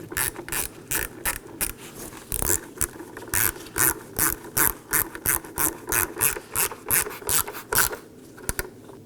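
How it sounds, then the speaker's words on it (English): Ratchet driving two T15 Torx screws into a Chevrolet Equinox tail light, rapid close clicking in short repeated bursts, loud and alone. "install my two T15 Torx screws"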